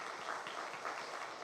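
A church congregation at a Friday prayer meeting applauds the worship team. The clapping is a steady, even wash of sound that continues for the whole moment, with no voices heard.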